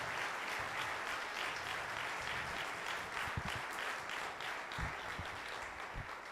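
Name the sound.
round of applause for candidates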